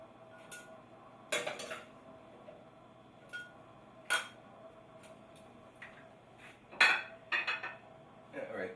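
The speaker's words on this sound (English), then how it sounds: "Get a bowl for your edamame." Bowls and cutlery knock and clink in short, separate bursts as a bowl is fetched for edamame, close and fairly quiet, with brief pauses between the clatters.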